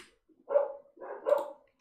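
Two barks from a dog or dogs, each a short, moderately loud burst separated by a brief pause, heard alone without talk.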